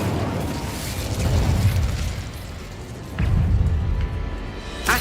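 An Incendio fire spell explodes in Hogwarts Legacy, with deep booming bursts and rumbling fire, loud and close, one blast near the start and another about three seconds in.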